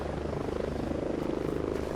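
Enemy helicopter hunting players in the mountains in Ghost Recon Breakpoint, its rotor thumping in a fast, steady pulse over a loud engine drone, close and continuous throughout.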